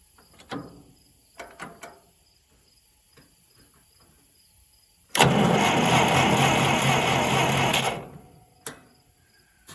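Minneapolis Moline U tractor that has sat for decades being cranked: a few light knocks, then a loud sustained grinding starter crank of about three seconds that stops abruptly, with crickets chirping in the quiet around it.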